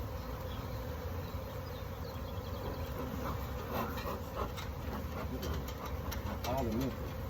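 Honey bees swarm around an open hive during the season's first inspection, a dense continuous buzz close by with a low engine-like hum and a few brief faint voices.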